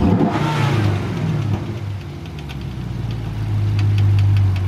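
A Chevrolet Camaro SS V8 fitted with a new intake runs close and loud, with a rev at the start and then a low, rumbling idle that builds again toward the end.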